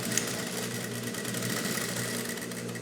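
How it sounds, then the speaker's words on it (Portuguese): A sewing machine stitching synthetic material for a handbag runs with a steady, continuous mechanical hum and fine rhythmic vibration, moderately loud and close, with no talking. "Tô costurando por cima da linha que eu tô vendo ali"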